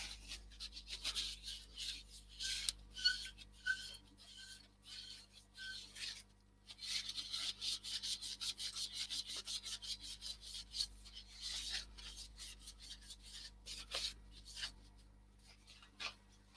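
Wooden crochet hook being sanded with abrasive grit, a steady series of close, soft rubbing strokes in quick rhythm, pausing briefly now and then.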